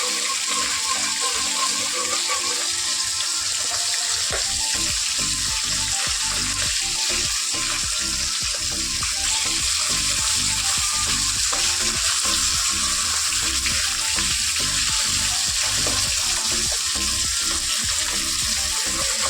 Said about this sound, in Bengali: মাখিয়ে নিয়ে এই যে ভোলা মাছটা ভাজা বসিয়ে দিয়েছি